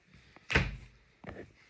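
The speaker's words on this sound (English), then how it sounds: "You got a nice big pantry on the side with some drawers that will slide out as well. They are soft close drawers." Soft-close pantry drawers in a 2021 Cedar Creek 377BH RV trailer slide and settle shut, giving two muted thuds a little under a second apart against a quiet room.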